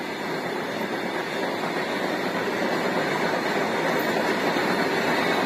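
A runaway freight train travelling without a driver from Jammu into Punjab rumbles on the rails as a loud, steady, unbroken roar with no voices.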